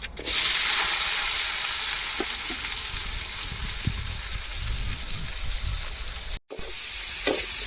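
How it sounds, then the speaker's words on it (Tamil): Onions and mustard seeds frying in hot oil give a steady, close sizzle with brief crackles, one short dropout near the end, and no voices. "எண்ணெய் சூடேறிட்டு அடுத்தது நம்ம வெங்காயத்தை சேர்த்துக்கிடுவோம்"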